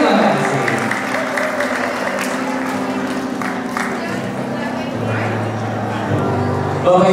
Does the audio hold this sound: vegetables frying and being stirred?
no